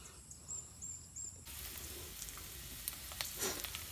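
Garlic and onion sautéing in a frying pan give a soft, steady sizzle that grows louder and fuller partway through as the pan heats, with faint clinks of stirring.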